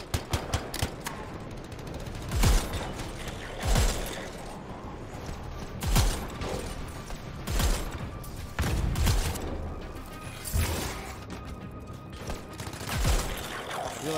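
Shotgun blasts ring out in the sci-fi shooter Anthem, heavy booming shots spaced a second or two apart over a continuous bed of game noise and distant gunfire.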